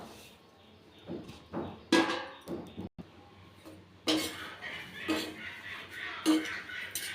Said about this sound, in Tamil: ஒரு தடவை வறுத்துக்கிறேன்.